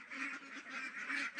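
A flock of white and coloured Pekin ducks, about 49 days old and over 1.5 kg each, quack in a steady, overlapping chorus that is faint and somewhat distant.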